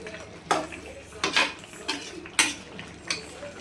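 A spoon scrapes and clanks against a pan while stirring pepper chicken masala, giving about six loud metallic strokes at an uneven pace over a low background hiss, with no voices.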